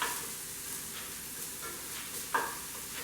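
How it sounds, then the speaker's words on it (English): Onion frying in a pan hisses in a soft, steady sizzle, faint and even, with a brief sharper scrape of stirring near the end. "So our onion is cooking nicely here."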